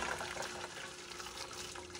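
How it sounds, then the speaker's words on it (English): Potato cooking water pours from a pot through a strainer into a container, a steady close rushing and splashing that runs unbroken from start to finish. "You want to drain the water out. So I have a strainer here, container."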